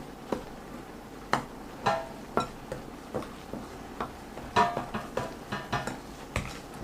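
Milk being stirred into cornbread batter in a bowl, a string of close clinks and taps of a utensil against the dish in an uneven rhythm over a soft, steady background.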